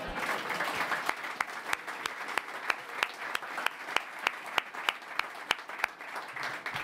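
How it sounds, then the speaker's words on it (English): Steady audience applause at a Harvard Life Lab ribbon cutting, many hands clapping together, with sharper individual claps standing out at a fairly regular pace over the crowd. "And we should have a clap for that."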